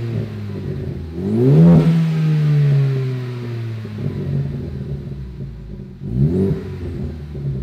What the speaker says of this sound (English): You can hear the turbo a ton.